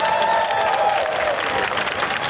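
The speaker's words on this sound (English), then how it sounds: "give yourself a round of applause" Crowd at a Tough Mudder obstacle race start line applauding, a dense, continuous wash of clapping with some cheering mixed in, and an amplified voice fading under it.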